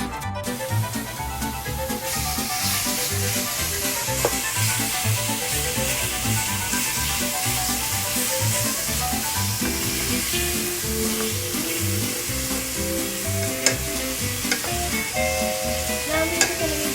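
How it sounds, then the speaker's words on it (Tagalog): Onion and black pepper sizzle steadily in a pot with pork added later for Filipino nilagang baboy, a continuous close frying hiss with stirring scrapes and small clinks throughout. "Kung naririnig nyo na yung hissing sound, it's time to put the pork."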